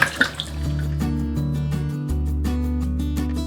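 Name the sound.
washing an item under running water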